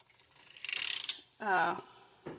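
A circular sock knitting machine is cranked while knitting a doll dress, giving a quick run of close, rhythmic ratcheting clicks that speeds up and thickens, then a brief tonal squeak-like sound and a final faint click.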